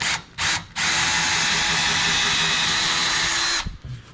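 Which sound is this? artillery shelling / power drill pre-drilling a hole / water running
power drill pre-drilling a hole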